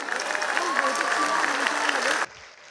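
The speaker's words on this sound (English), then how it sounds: "Such magnificent performances deserve another round of applause," An audience at a school annual day event applauds in a dense, steady wash of clapping that stops abruptly, with a voice speaking over the applause.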